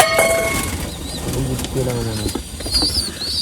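Pigeons in a home loft feeding on scattered grain, with soft cooing and bird calls, light pecking and a brief flutter of wings, close and fairly steady throughout.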